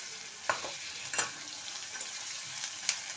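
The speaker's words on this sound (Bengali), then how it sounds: "আমি এটা নাড়বো যতক্ষণ না পেঁয়াজটা একটু নরম হয় আর স্বচ্ছ ভাবটা আসে।" Salted onions frying in a pan while being stirred, a steady close sizzle with a few sharp scrapes and clinks of the spoon against the pan, no voices.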